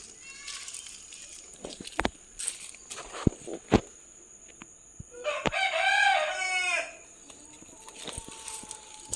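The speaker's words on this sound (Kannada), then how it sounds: "ನಮ್ಮ ಮನೆಯಲ್ಲಿ ಕೋಳಿಗಳೆಲ್ಲ ಉಂಟು." A rooster crows loudly once, with scattered clucks, clicks and thumps around it in an outdoor yard.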